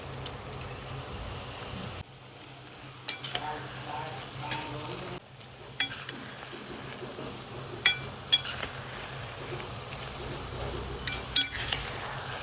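Grated carrots cook in sugar syrup for carrot halwa, a low steady bubbling sizzle broken by repeated clinks and scrapes of a spoon against the pan.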